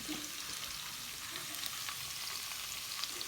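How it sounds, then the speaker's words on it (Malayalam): Beef frying in a pan with chili powder and spices for a pepper-coconut beef roast, a steady dense sizzle with soft stirring scrapes running throughout, close and even, with no talking. "ബീഫ് ഇട്ടതിന് ശേഷം നന്നായിട്ടൊന്ന് ഇളക്കി കൊടുക്കാം."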